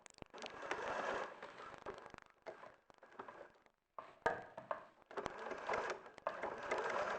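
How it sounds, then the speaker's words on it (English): A sewing machine top-stitching the straps at the bottom of a fabric bag, running in several short bursts separated by brief pauses, fairly quiet and close. "So just top stitching in the straps at the bottom of the bag there."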